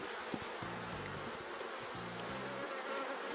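Honeybees buzz steadily and close at beehives during an inspection, a dense, continuous hum with pitch wavering as bees fly near.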